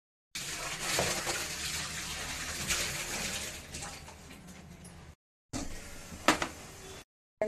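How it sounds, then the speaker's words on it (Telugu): Hot jaggery syrup is poured through a filter, making a steady liquid splashing and trickling that continues for several seconds, breaks off briefly and then resumes. "స్టవ్ ఆఫ్ చేసి మనం ఫిల్టర్ చేసుకుందాం."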